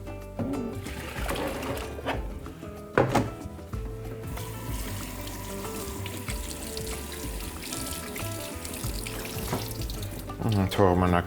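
Cold tap water runs into a sink while chicken gizzards are rinsed under it, a steady splashing flow with a few louder bursts and clatters near the start and end.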